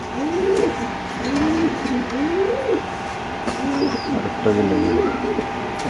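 Pigeons in a cage coo repeatedly in a rising, rolling rhythm close by, with a voice talking over them and faint background noise.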